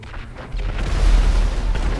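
A GTA 5 explosion set off in the game, a sudden deep boom at about half a second that swells into a loud, sustained low rumble and keeps roaring to the end, with no talking over it.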